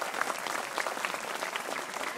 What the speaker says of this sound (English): give this standout raptor adapter a really big round of applause